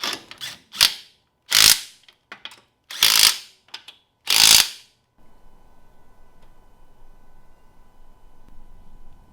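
A hand ratchet spun in quick loud bursts while removing the front bumper of a BMW E36, four or five sharp clicking runs close to the microphone, then quiet workshop background noise.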